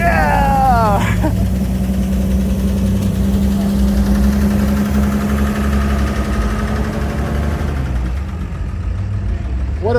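A classic Bentley shown at a British car meet in Vancouver idles with a steady, deep rumble after starting, while people talk and cheer close by over the engine.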